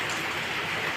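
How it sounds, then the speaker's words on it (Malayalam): Rain falling, a dense continuous hiss of drops striking surfaces, steady and fairly loud for a brief moment. "ഇപ്പോഴാണ് മഴ പെയ്തത്"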